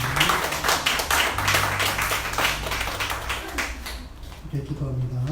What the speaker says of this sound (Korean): 하나님 앞에 영원히 박수 드리겠습니다